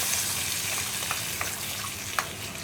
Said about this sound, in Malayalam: ഇനിയിപ്പോൾ നമുക്ക് നമ്മുടെ കറിയിലേക്ക് നമ്മുടെ വറവ് ചേർത്ത് കൊടുക്കാം.